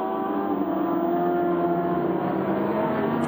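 Racing motorcycles at the Bol d'Or 2012 endurance race, heard as a loud, steady high-pitched engine whine that holds at full throttle throughout, with no pause or quiet gap.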